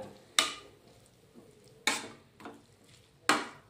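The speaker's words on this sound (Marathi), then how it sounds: "आणि आता आपण हे जे दूध आहे एकदा ह्या गाजरमध्ये मिक्स करून घेऊया" Grated carrots and milk stirred in a pan while making gajar halva: three sharp metallic spoon scrapes against the pan at even intervals, with softer stirring between them and no talking.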